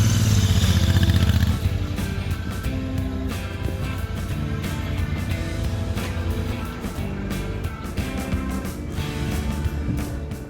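A Royal Enfield Interceptor 650 motorcycle engine runs loud and close, a steady thrumming roar that drops slightly after the first moments and holds at a constant throttle throughout.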